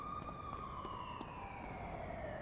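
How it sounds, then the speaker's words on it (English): Police sirens in the City of Heroes video game wail in steady, overlapping rising and falling tones, faint and distant throughout. "I hear a bunch of sirens."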